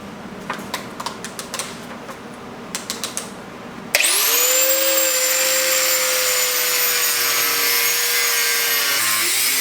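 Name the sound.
cutting mounting tabs off a car radiator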